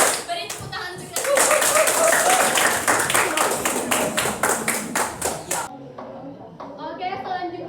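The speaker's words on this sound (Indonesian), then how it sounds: "Beri tepuk tangan untuk kita." A classroom of students claps together in rhythmic unison, sharp regular hand claps in a quick steady beat that stop abruptly, followed by a few scattered claps and voices.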